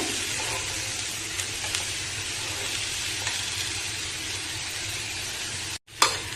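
Boiled chickpeas for sundal fry in a hot pan as they are stirred, giving a continuous close sizzle with light scraping, a brief sharp break near the end, and no talking.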